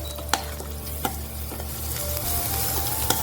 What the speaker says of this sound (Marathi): हळद जरा परतूया